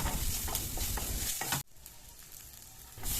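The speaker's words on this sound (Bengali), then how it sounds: "তেল গরম হলে এরকম ছোট ছোট লম্বা লম্বা সরু সরু কাটা কয়েকটা আলু আর বেগুনের টুকরো দিয়ে ভালো করে ভেজে নেব" Thin, long-cut potato and eggplant pieces fry in hot oil, a loud dense sizzle that cuts off abruptly midway, then a quieter hiss returns and builds again.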